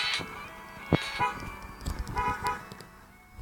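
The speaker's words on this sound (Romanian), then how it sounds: "Claxonez eu." A few short, synthetic-sounding car horn toots in the game Dr. Driving over faint background game sounds, with no one talking.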